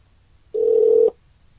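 A phone dialing out to a diner through a wireless neck speaker, a single clear steady tone lasting about half a second against quiet.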